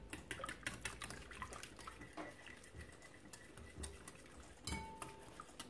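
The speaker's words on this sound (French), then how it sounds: "Voilà, je mélange." Eggs being mixed into gingerbread batter in a bowl, with a utensil lightly clinking and scraping against the bowl in quiet, irregular strokes.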